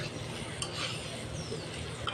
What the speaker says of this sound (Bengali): আলুর সাথে একসাথে কষিয়ে নেব।